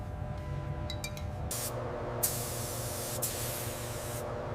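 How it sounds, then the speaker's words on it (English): A spray gun lays wood rose pink paint onto a 1959 Cadillac Eldorado Biarritz in a paint booth, giving a steady close hiss that runs throughout, with a few brief louder bursts. "Laying down that Classel pink."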